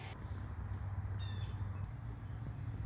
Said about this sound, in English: I thought you guys might want to take a look at my adorable cats.